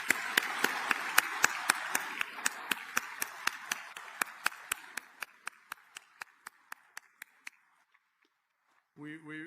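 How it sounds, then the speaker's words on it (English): Audience claps at a US Strategic Command change of command ceremony, heard as sharp, evenly spaced claps over a softer wash of applause. The sound fades gradually over about eight seconds, then a voice briefly begins. "please join me in a huge round of applause for Marcia."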